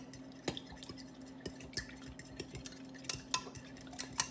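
A fork whisks milk and eggs in a bowl, giving quiet, irregular clinking taps and scrapes against the dish at a steady stirring pace, close by and faint.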